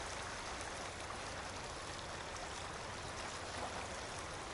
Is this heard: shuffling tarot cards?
no